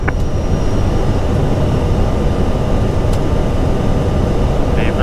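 An Airbus A320 takes off from runway 07 right on a Singapore to Jakarta flight, heard from the cockpit as a loud, unbroken engine and airflow roar that stays heavy and constant throughout.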